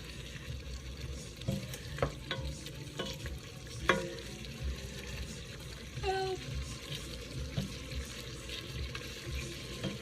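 Food sears in a pan sitting in plenty of liquid, a soft steady sizzle and bubbling with a few light clinks and scrapes, heard up close and without voices.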